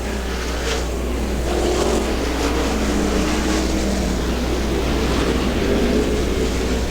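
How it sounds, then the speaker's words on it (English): Sprint cars racing on the dirt track at Butler Motor Speedway, a steady loud engine roar with the cars close, continuous and fairly even for the whole stretch and no voices over it. "we see a lot of horsepower escaping as those right rear tires claw futilely at the dirt"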